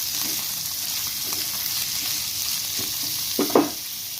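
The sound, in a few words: stirring gongura mutton spare parts fry in a pan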